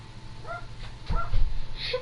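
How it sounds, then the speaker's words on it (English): Several neighborhood dogs give short yips and whimpering barks in the distance, two brief bursts over a steady low rumble of background noise. "Our new neighbors have like 10 dogs."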